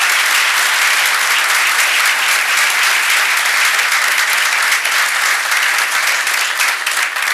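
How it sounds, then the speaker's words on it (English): An audience at a tenure and retirement ceremony gives a loud, continuous round of applause for retirees, dense clapping that holds steady throughout. "So let's give a round of applause for our retirees."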